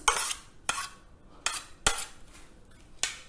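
A spoon clinks against a pan while stirring masala oats with spices, giving about five sharp, close metallic knocks spaced by quiet scraping pauses.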